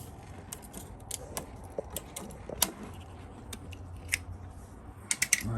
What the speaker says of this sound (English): I'm gonna cut that zip tie.